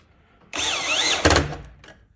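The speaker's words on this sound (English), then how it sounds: "So now you can take your drill," Power drill driving a screw down on a wire terminal inside an electrical breaker box: a steady loud whirring motor with a rising and falling pitch wobble, then a louder burst of ratcheting grind as the screw tightens, stopping with a brief trailing buzz.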